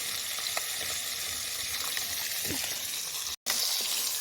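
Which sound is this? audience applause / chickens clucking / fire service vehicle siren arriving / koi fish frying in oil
koi fish frying in oil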